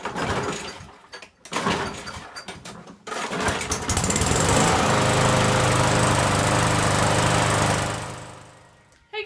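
A freshly serviced lawn mower, with new air filter fitted, is handled with a few clunks, then its small engine starts and runs steadily and loudly for several seconds before cutting off abruptly.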